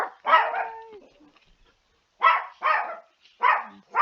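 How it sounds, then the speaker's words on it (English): A dog barks in a lab setting, a single bark with a whining tail followed by a pause and then four sharp barks in two pairs, fairly close and loud with no talk over them. "The dog's barking."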